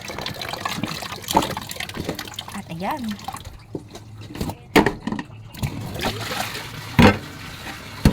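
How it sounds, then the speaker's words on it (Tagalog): Tap water runs and splashes into a cooking pot to make soup broth, with bagoong and sweet potato among the ingredients. Uneven trickling and dripping come close up while someone talks over it. "Dito lang sa gripo yung isasabaw natin."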